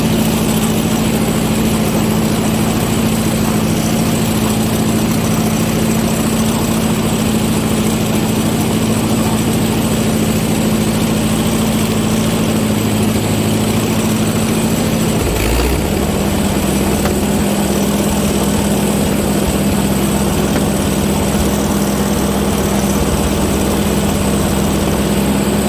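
A Ford 515 sickle mower runs steadily and loud with a low engine drone and mechanical clatter throughout, shifting to a rougher, lower tone about two-thirds of the way through.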